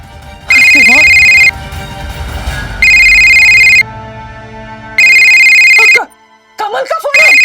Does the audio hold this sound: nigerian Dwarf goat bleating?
no